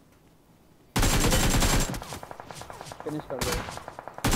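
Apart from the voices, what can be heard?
gunshots from the video game BGMI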